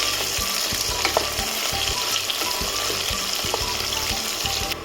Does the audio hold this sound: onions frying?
yes